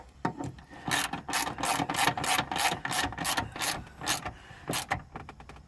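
A ratchet wrench tightens the rear shock bolts on a Volvo S60, giving repeated bursts of sharp clicking in steady strokes, close-up, with no voices.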